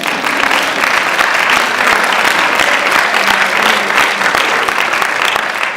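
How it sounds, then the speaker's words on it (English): An audience applauds a senator at a talk on mentoring, steady dense clapping sustained throughout at an even, fairly loud level. "Please give her a round of applause."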